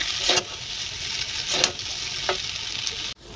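Chow mein noodles with scrambled egg and peanuts stir-fried in a hot pan, giving a steady close sizzle with a few louder stirring scrapes and tosses, then a brief cutoff at the end.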